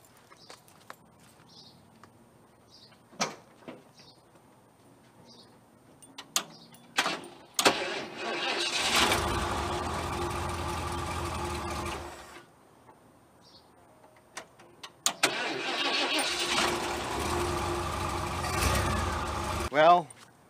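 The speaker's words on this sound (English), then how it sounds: "Let's see if that's enough to crank the truck." A pickup truck cranking on a small lithium jump starter rated around 18 amp hours, with two long bursts of loud starter grinding and engine rumble separated by quiet pauses and a few clicks, starting only barely.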